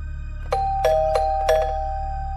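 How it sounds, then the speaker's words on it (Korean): A doorbell rings repeatedly, four quick electronic chimes in a row over a low steady hum, ending with a fading tone. "새벽 3시에 초인종을 울리더니"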